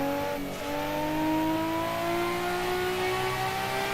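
A race car engine in a racing sim video game revs up through a gear shift, a loud close whining drone that climbs steadily in pitch, with no talking.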